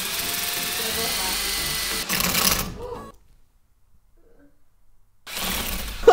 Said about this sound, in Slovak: My našťastie máme aj nástavec na akú vŕtačku.